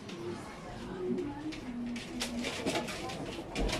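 Racing pigeons coo softly in a loft in San Ildefonso, Bulacan, with low, repeated calls spread through the scene under steady outdoor background noise while someone talks nearby.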